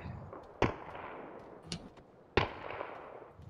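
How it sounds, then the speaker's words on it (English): Distant enemy gunshots in PUBG: three sharp, separate cracks spaced about a second apart over a low ambient background. "He's shooting."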